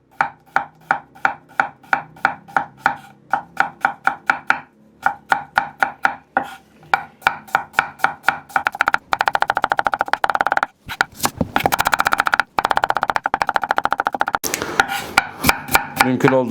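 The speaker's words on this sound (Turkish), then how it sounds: "Soğanları fare dişi şeklinde doğrayacağım." Onions are finely chopped with a knife on a board for meat börek. Crisp, close strokes start at a steady pace and then speed up into a rapid, continuous clatter.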